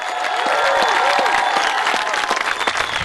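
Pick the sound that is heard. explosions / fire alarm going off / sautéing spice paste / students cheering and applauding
students cheering and applauding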